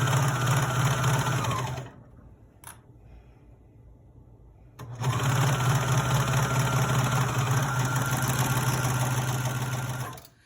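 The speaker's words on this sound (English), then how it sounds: "it gives you a good clean edge because it cuts as it serges together the pieces of the fabric." A serger stitches and trims fabric pieces together with a loud, steady mechanical hum and rapid stitching. It runs alone, pauses for a few seconds of near silence with a faint click, then starts again and runs before stopping.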